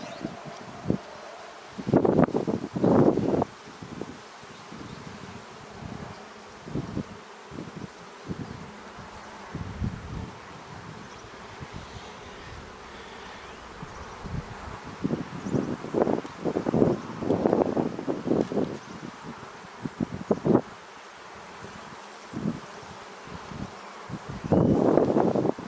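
Honeybees at a large, well-filled hive opened for a spring inspection buzz in uneven swells and bursts as bees pass close to the microphone, over light wind noise, with no voices.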